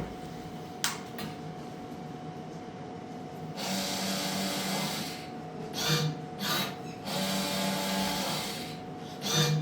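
A cotton wick (rui batti) making machine runs with a steady whirring, rasping drone, joined by several sharp clicks and brief louder bursts, moderately loud and close with no talk.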